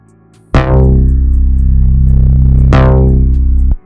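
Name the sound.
synth bass from sample pack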